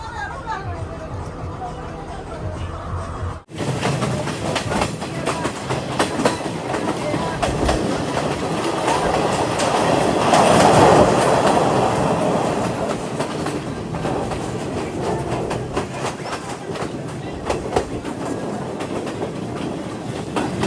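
The Podi Menike Express runs from Kandy to Ella in Sri Lanka, its carriage rattling with steady clickety-clack, a loud rolling rumble that swells midway, with chatter and voices inside the coach throughout.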